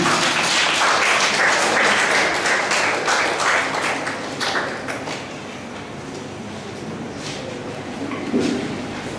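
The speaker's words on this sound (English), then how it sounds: "Clap, please." A workshop audience claps to welcome the next speaker, lively scattered applause that is loud at first, then tapers to sparser claps with a brief swell near the end.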